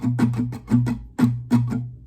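Close acoustic guitar strumming from a song with certain strums hit harder, giving a punchy accented rhythm of quick strokes and a few loud swells, alone without speech.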